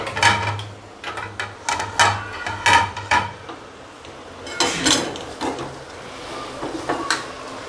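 Green potato vegetable being stir-fried in a pan, a spatula scraping and clattering against the metal in uneven bursts of short knocks and rattles, close and fairly loud, with no talking.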